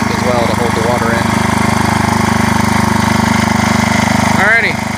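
Steady running engine of an old Sears Super SS 12 garden tractor used for plowing a garden, a loud, constant low throb close by, with someone talking over it.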